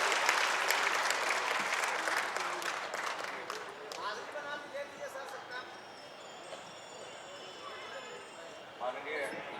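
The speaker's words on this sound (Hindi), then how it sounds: "अनेक अनेक तालियों से स्वागत करें लोकप्रिय माननीय मुख्यमंत्री" An audience breaks into loud sustained applause to welcome the Bihar chief minister at a foundation-stone ceremony for a university building, the clapping fading gradually to a thinner patter toward the end.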